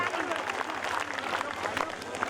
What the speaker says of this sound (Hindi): बजाओ खाटू श्याम भगवान के लिए ताली